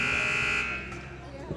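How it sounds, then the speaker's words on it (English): A basketball game buzzer sounds loud and steady in a gym before a boys junior varsity game, holding a long electronic tone that fades out with echoing room noise. "you hear the buzzer here in about 2 seconds"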